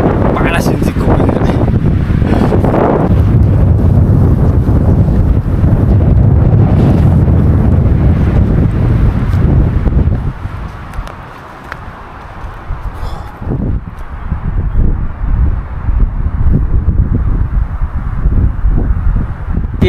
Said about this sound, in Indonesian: di Wilis anginnya kayak gini